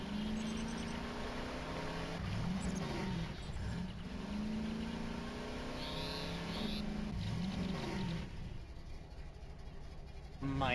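An engine in a space video game drones and revs continuously at low pitch, with rising and falling sweeps and occasional whooshes over game music, no talking.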